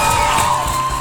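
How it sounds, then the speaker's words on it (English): Rowdy studio audience in a comedy podcast setting, a dense continuous wash of clapping with cheering and whoops, loud and sustained for the whole moment without a break. "He wants to get his applause now."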